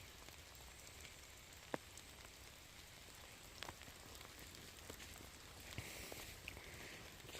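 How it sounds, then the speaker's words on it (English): Rain falls outdoors during a walk, a faint steady patter and hiss with a few sharper drip ticks, distant and continuous with no voices. "And even though I know it's raining,"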